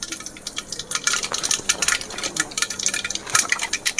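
Mustard seeds spluttering in hot oil in a pan: sharp, irregular crackles and pops burst in quick clusters, moderately loud and close, with no talking.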